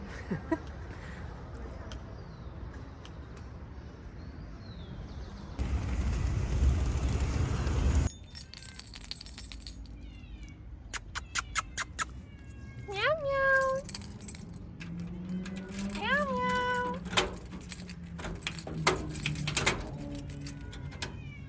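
A cat gives a couple of rising, drawn-out meows midway, amid metallic jangling and clinking, with a person talking nearby.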